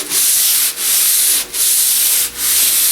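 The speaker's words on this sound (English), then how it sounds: "then I'll take my sandpaper. Now I'm using a 150 grit" Hand sanding of wood with 150 grit sandpaper produces a loud, close, continuous hissing scrape in four long strokes, each broken by a brief dip as the direction reverses.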